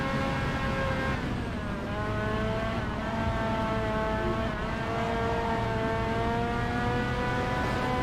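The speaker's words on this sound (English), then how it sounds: "You can hear the engine and people dying." An engine in the Driver San Francisco driving game drones steadily, with a sharp rise in revs near the start and another around the midpoint. Rising and falling harmonic tones sound loud and close throughout, with no talking.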